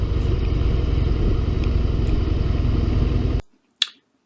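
A Harley-Davidson 1700cc motorcycle engine rumbles close and loud, a steady low throbbing drone that cuts off abruptly, followed by a single sharp click in the quiet.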